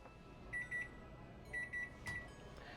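Two sets of short high electronic beeps from a kitchen timer, each a quick triple chirp, about a second apart, faint against quiet room noise, followed by a soft clunk.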